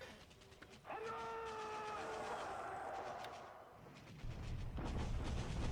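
Artillery bombardment in a World War II Pacific strategy game, a distant whistling howl followed by rolling low rumbles and muffled booms, fairly quiet throughout.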